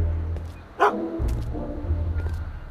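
A dog gives a single short bark-like yip in a domestic scene, heard near over a steady low background hum.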